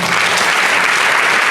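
An audience at a youth under-15 football tournament ceremony in Senegal claps loudly and steadily, a dense continuous wash of applause with no break.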